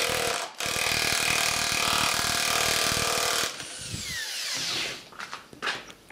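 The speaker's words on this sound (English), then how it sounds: "That's a bloody good rattle gun for it to do that." An impact wrench spins a used nut, a loud steady whirring drive for several seconds that cuts off, followed by clattering handling and a few short rattling bursts.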